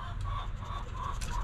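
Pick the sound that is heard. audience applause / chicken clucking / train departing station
chicken clucking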